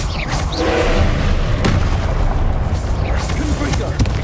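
Confringo fire spell blasts in the Hogwarts Legacy video game, a dense rumbling barrage of booms and crackling impacts running steadily throughout, loud and close, with spell-casting voices mixed in.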